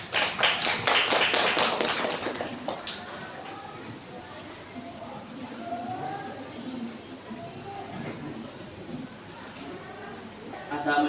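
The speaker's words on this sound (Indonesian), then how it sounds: "kita beri aplaus untuk Rafa" A classroom audience gives a short burst of rhythmic applause for a student named Rafa, which fades after a couple of seconds into quiet talking.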